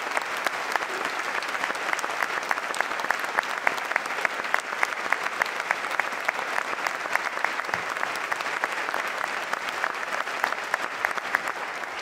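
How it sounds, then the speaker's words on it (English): A large audience at a university's State of the University address applauds steadily, an even wash of clapping that stays full and unbroken for twelve seconds. "I want to start by giving each of ourselves and each of these people who have contributed a round of applause."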